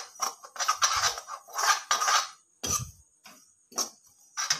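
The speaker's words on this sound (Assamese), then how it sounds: "তাৰপিছত অলপ টাইম মই নারিকলৰ গুড়াখিনি" Grated coconut being stirred in a kadhai for Assamese coconut ladoo, heard as a run of dry, clinking scrapes and taps of the utensil against the pan in irregular bursts, close and moderately loud, with no talking.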